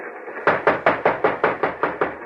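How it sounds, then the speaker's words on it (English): Nine firm knocks on a mail car door aboard a train ring out in an even, steady rhythm, loud and close, as a radio drama effect with no voices over them. "Now, knock."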